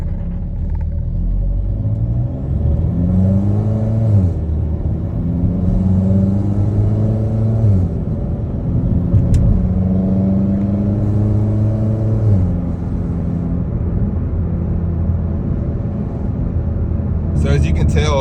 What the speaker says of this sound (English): It sounded like there was a boost leak or exhaust leak.